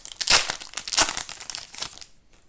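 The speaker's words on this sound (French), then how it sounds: "D'ouvrir les boosters n'importe comment." Weiss Schwarz trading card booster pack wrappers being torn open, a few sharp crinkling bursts followed by softer rustling that fades out, close and loud with no talking.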